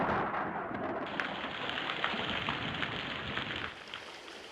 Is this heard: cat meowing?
no